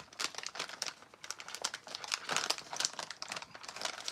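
The wrapper of an individually wrapped Japanese candy crinkles and rustles close up in quick, irregular bursts of crackling plastic as it is handled and torn open.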